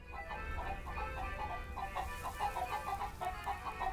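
Chickens clucking in a video game, a run of rhythmic, repeated clucks over a steady low background hum, moderately faint and continuing without a break.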